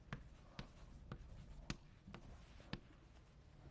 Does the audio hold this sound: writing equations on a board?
yes